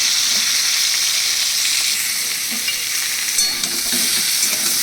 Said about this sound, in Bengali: পটলটা দিয়ে আমি ভালো করে নুন হলুদ দিয়ে দিলাম, দিয়ে আবার ভালো করে এটাকে নাড়াচাড়া করে ভেজে নেব।